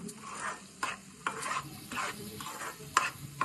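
Chicken frying in oil over a low flame, with a steady soft sizzle broken by repeated scraping stirs of a spatula at irregular intervals, close and moderately loud, no talking.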